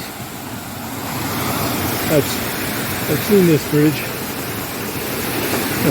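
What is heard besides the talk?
Moore Creek Falls waterfall rushing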